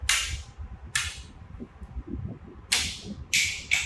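Several sharp gunshots from a firearm crack out in irregular succession at a gun market in Pakistan, each a brief, bright report that decays quickly, with faint low murmuring between shots.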